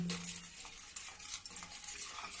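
Half a spoon of plain salt and a spoon of black salt being stirred into the sweet-sour masala for a carrot, cauliflower and turnip pickle: close, continuous scraping and swishing of a spoon through the mixture, with no talking.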